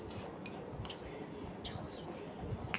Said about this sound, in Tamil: இப்போ சாப்பாடு உடையாமல் கிண்டி விடணும்.